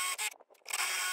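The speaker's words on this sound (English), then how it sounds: "I'm drilling out the holes in the center of the timber." A power drill bores holes through timber, whining at high speed, briefly pausing, then spinning up again and running on, loud and close.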